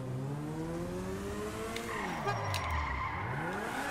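Motorcycle in GTA V, its engine whining with a drone that rises and falls as it revs, while tyres squeal in a skid midway, loud and close.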